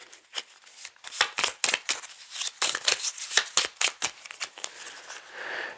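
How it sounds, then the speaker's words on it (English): Game cards being shuffled back into a deck during a Bloodborne board game session, a quick run of crisp riffling snaps and flutters in close bursts, near and fairly clear. "We're going to shuffle that back into the consumable deck."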